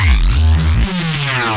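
A chopped drum and bass sample motif plays loud and dense, with heavy, distorted bass and stuttering, re-cut textures that change sharply partway through.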